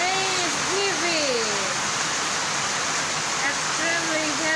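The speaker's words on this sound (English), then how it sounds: "Extremely heavy rain." Heavy typhoon rain pouring down in Sorsogon City, a dense, loud, continuous wash of noise heard from indoors by a window, with a voice talking faintly over it at the start and end.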